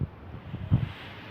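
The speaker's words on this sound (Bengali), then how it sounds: "এখন হাওয়াও দিচ্ছে" Outdoor wind on a mildly cloudy day buffets the microphone in low, uneven gusts, with one stronger rumbling push near the middle of the clip.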